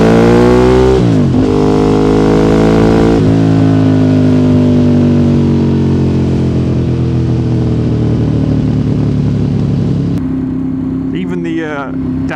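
A Ducati 848 motorcycle engine drops through the gears, with loud, close engine notes stepping down in pitch and sustained engine braking between shifts, over steady wind and road noise.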